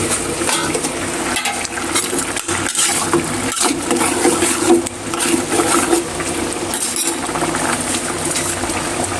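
Water pours steadily and loudly into a cooking pot of gourd curry with green chillies, a continuous rushing splash with a few clinks against the pot.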